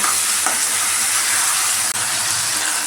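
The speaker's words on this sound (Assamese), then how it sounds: "এইফালে এইটো মাংস ইয়াত দি দিলোঁ। এতিয়া অলপ লৰাই লওঁ।" Broiler chicken meat fries in a pan while being stirred, giving a loud, continuous close-up sizzle with a couple of brief scraping knocks and no talking.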